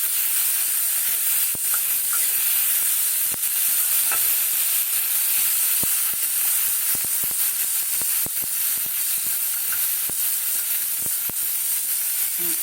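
Spice paste and tomato frying in hot oil for an elephant-foot yam and potato kofta curry, with a steady loud sizzle and hiss broken by sharp clicks and scrapes of stirring.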